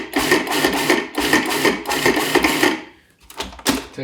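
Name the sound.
food processor pulsing basil for pesto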